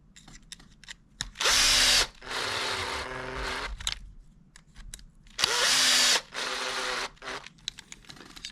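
A power driver sets 4x22 button head screws into a Kyosho 1/8 RC front end kit: two loud whirring bursts, each about a second long, separated by quieter handling clicks and rattles.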